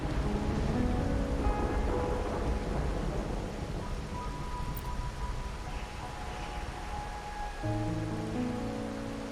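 Steady rain falls on a rainy night in a video game, a dense, continuous hiss with low rumbles of thunder underneath, with no voices.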